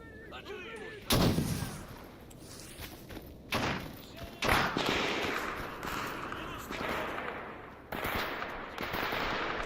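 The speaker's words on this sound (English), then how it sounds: "now he's throwing a grenade" Combat in the STALKER Anomaly game with a Loner character: repeated heavy booming blasts and bursts of gunfire at irregular intervals, some close and loud, others duller and more distant, with a voice talking between them.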